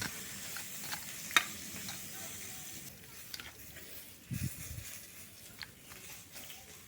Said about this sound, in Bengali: আর এদিকে হচ্ছে মাছ ভাজা